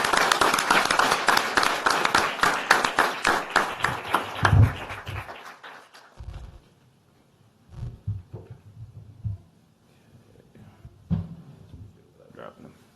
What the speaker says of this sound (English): if you want to give them a round of applause